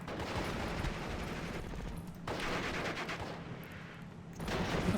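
Heavy .50 cal machine gun fire in the WWII strategy game Steel Division Normandy 44, with dense, sustained rapid bursts and battle noise rolling on loudly for the whole stretch.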